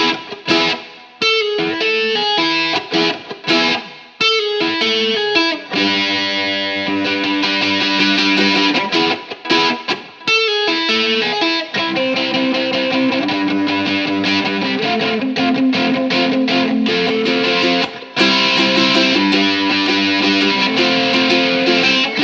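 A ukulele is strummed and picked through an 80s-style distortion effect, producing a buzzy, saturated tone with sustained chords and rhythmic bursts, played alone for over twenty seconds.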